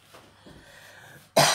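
A single sharp cough bursts out near the end after a stretch of faint, quiet background, loud and close.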